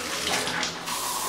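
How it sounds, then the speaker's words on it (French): Water gushes steadily from a bathtub faucet in an apartment bathroom, a dense and continuous close-up rush with no voices. "Je vais essayer d'ouvrir l'eau, le robinet, pour essayer de voir la pression."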